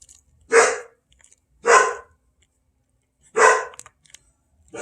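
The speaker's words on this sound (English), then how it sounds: "Yeah, that's my new puppy." A new puppy barks three times, each bark sharp and fairly close, separated by short silent gaps, with nothing else heard between.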